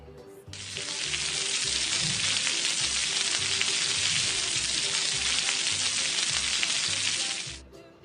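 Loud, steady sizzling of insects frying in a hot pan, crackling continuously for several seconds before stopping abruptly.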